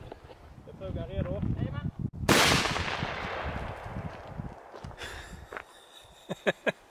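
A shotgun fires a 2 Magnum 42-gram load once, a sudden loud blast that decays into a long ringing tail, with talk before it and a few sharp clicks afterward.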